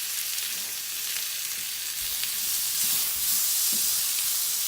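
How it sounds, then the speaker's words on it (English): Garlic fries in a hot pan with a steady, close sizzle and hiss, the heat turned down to low, with faint stirring clinks underneath. "Turn it down to low, because the pan is hot enough now, and I don't want the garlic to be all burnt"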